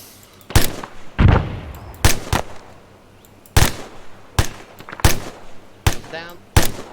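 Sharp single gunshots ring out in an ArmA 3 military squad exercise, about nine reports spaced irregularly over several seconds, with a brief voice heard between them.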